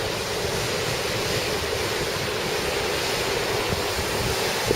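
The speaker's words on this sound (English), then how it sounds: "the weir." Continuous, loud roar of water pouring over an old weir beside a former water wheel site in Spofforth, West Yorkshire, a dense rushing wash with no voices.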